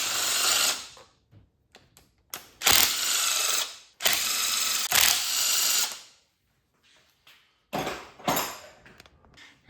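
A ratchet loosens 8 mm bolts on the upper intake manifold of a 2013 Ford Taurus SHO engine, with bursts of rapid clicking that start and stop repeatedly, loud and close.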